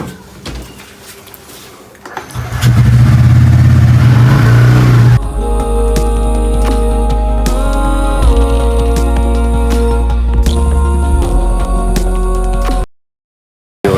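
A vehicle engine starts and pulls away, rising from a low rumble into a loud revving drone, then levels off under steady tonal music before cutting out abruptly.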